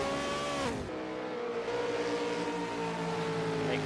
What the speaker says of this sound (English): Burn out in the pits, getting those fresh tyres nice and warm